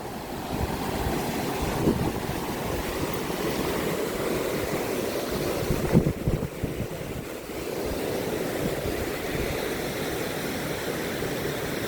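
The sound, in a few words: small waterfall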